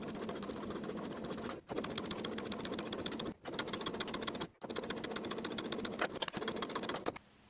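A sewing machine bastes the collar onto a vintage 1960s step-in dress, running in fast, even stitching bursts separated by three short stops, close and clear.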